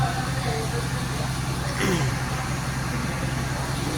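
Engines idle at a bus terminal in a low, steady rumble that runs the whole time, with a brief vehicle sound rising midway and people talking faintly in the background.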